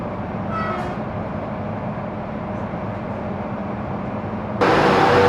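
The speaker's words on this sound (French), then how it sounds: "je suis content de prendre ce train là 1 heure plus tard parce que c'est un matos différent" An AGC regional train in France rolls along with a steady, loud rumble and low drone, and a brighter wideband rush swells in near the end.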